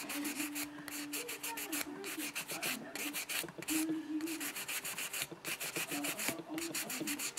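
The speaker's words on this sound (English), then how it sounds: "I use a four-sided buffer, and this just it buffs the ridges and makes them smooth and shiny" A four-sided nail buffer rubbed quickly back and forth across fingernails, a fast continuous scratchy rasping in short repeated strokes, close-up, with faint background music.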